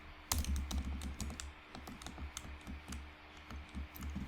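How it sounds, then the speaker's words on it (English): Fingers typing on a computer keyboard while entering a username into a React Native app form, a quiet, quick irregular run of close key clicks with no voices. "now let's say we start typing in username"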